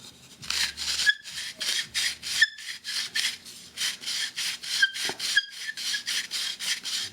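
Broken pieces of a ceramic water filter grind against each other, a rhythmic rasping scrape repeated in quick regular strokes with occasional squeaky tones, close and loud with no talking.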